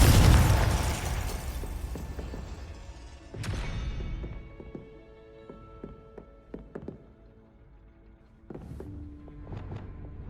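A Confringo blasting spell explodes in the Hogwarts Legacy video game, a loud booming burst that decays slowly, followed by scattered thuds, pops and a later smaller impact, with no talking.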